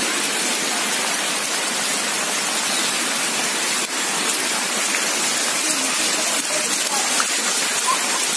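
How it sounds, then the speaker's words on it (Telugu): Heavy rain from Cyclone Phethai pours down in Amalapuram, a loud, steady, dense hiss that stays constant from start to finish with no pauses. "పెతాయి తుఫాన్ ప్రభావంతో అమలాపురంలో కురుస్తున్న చేపల వర్షం."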